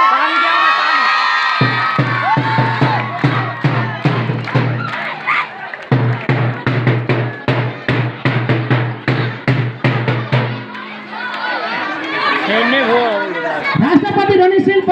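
Crowd at the closing ceremony of the third President Running Shield, a municipal-level school competition in Marin, clapping in loud rhythmic unison while children shout and cheer, with excited voices rising over the beat near the end.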